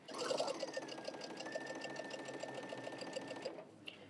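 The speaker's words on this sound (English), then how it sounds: "So I'm going to sew them in pairs, just like this." A sewing machine runs steadily for about three and a half seconds while quilt pieces are stitched together in pairs, a close, continuous mechanical whir that stops near the end.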